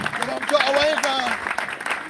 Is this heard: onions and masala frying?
no